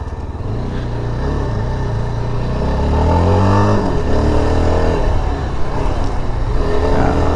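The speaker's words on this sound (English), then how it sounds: "it just loves to be revved" A Yezdi Adventure motorcycle engine revs up and down under steady wind rush, rising and falling in pitch as it accelerates, loud and close.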